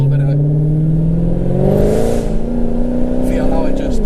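A Dodge Hellcat in track mode accelerates hard from close range, its engine note climbing and dropping as it shifts through gears. Someone talks over the engine.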